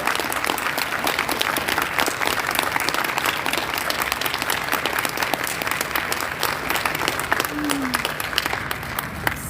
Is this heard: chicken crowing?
no